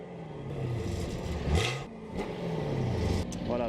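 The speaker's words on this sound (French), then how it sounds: "vous fassiez écouter le bruit du V8" A 2018 Chevrolet Camaro SS with a 455 hp V8 revs in short bursts, deep engine notes rising and falling close by, with a brief clattering pause between blips.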